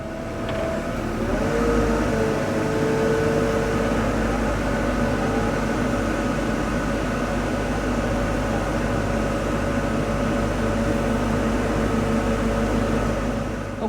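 A CAT 313 excavator swings around on a slope during a 1000-hour service, its engine giving a steady, loud mechanical drone with a whining tone that rises and falls slightly, close and continuous with no voices.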